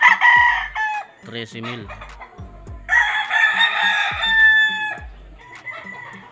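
Purebred Gilmore gamefowl roosters crow on a game farm, two loud, close crows rising and trailing off, with clucking between them and a brief spoken number.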